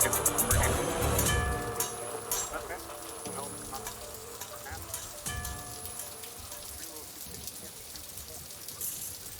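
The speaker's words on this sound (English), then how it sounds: "Rain fell like it had something to prove. Cold. Relentless." Heavy rain falls in a continuous dense patter with crackling drops, loud and close at first then settling slightly, layered under a tonal musical drone.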